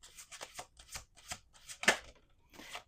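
Quick bursts of tarot cards riffling and being shuffled, several short flurries in a row, close and fairly quiet.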